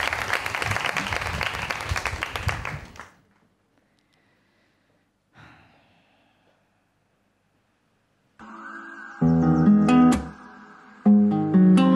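Audience at a TV gala final applauds a contestant, a dense burst of clapping for about three seconds that cuts off, followed by near silence and then music starting.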